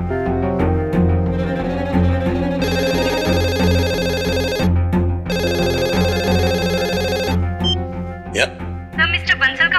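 A phone ringtone chimes in an office setting, a bright repeating electronic melody sounding in two long bursts over background music and dialogue, with people talking around it.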